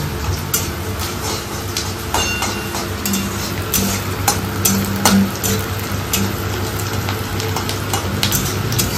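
Onions sizzling in a frying pan, a steady close hiss of frying with frequent sharp scrapes and clicks from a utensil stirring against the metal, continuous throughout with no talking.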